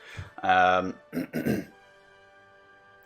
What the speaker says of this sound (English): you kind of come up and just clear your throat